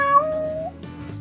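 A single drawn-out cat meow in a cat cafe, close and clear, fading into a quiet room hum.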